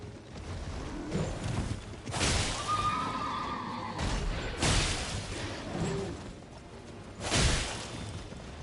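A horse in the Elden Ring video game neighs and whinnies loudly in several separate bursts, with whooshing game sounds between them and no talking.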